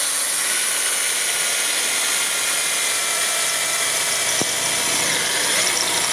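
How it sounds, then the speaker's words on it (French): Power drill boring the first hole in a door for a lock installation, a continuous loud whining motor hum throughout with a brief sharp click midway. "Nous allons tout simplement percer le premier trou sur le traçage que nous avons fait tout à l'heure."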